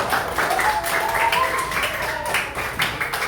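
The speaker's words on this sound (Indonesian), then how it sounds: "Oke, tepuk tangan dulu kita semua." Classroom applause from students during an online teacher-training lesson, a few seconds of continuous clapping with voices mixed in.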